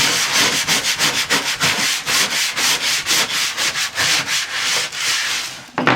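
Brisk back-and-forth scrubbing works old adhesive off the back of a cutting mat, a rough, rhythmic rubbing with quick regular strokes, close and fairly loud with no voices.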